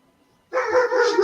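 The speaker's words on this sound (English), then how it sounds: "Someone must be coming through the door. So it's okay. The dogs are getting on this." Dogs bark in a sudden burst after half a second of near silence, loud and close in a home as someone comes through the door, continuing without pause.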